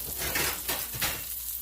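Fish and vegetables sizzle in a single skillet, a close, steady crackle of frying with a few louder bursts as the food is stirred.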